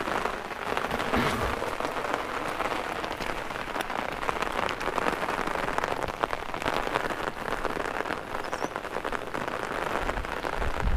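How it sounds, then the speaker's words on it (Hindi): Heavy rain drums steadily on an umbrella in hilly Uttarakhand, a dense, close, continuous patter that swells and eases without a break. "बीच बीच में आपको कुछ आवाज़ें आ रही होंगी बारिश की बूंदों की, कभी तेज़ कभी हल्की"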